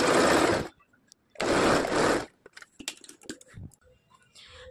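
A sewing machine stitching a katori blouse, two loud buzzing runs of rapid stitching separated by a pause, then scattered clicks and light handling noises of the fabric and machine.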